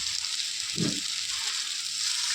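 A vegetable onion uttapam fries on a pan over low heat, giving a soft, even sizzle with a brief low clatter partway through, no talk.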